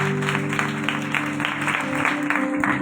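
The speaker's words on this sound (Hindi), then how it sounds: "अपने लिए जोरदार तालियां।" Enthusiastic audience applause during a church sermon fills the clip: steady, dense clapping that stays loud throughout, with sustained music tones underneath.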